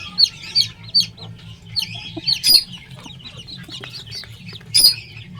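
A hen with her six newly hatched chicks: repeated high, thin peeping from the chicks in short bursts, with the hen's soft low clucking running beneath, nearby and without talk.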